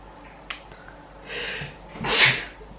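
A person sneezes nearby, with a sharp inhaled build-up followed by one loud sneeze burst and no talking.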